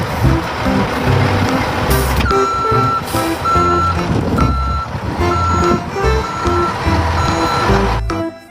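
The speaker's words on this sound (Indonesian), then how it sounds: "Yang ini ada mobil truk molen besar." A large cement mixer truck gives off loud, evenly spaced reversing beeps over a rumbling engine, close up and without talk.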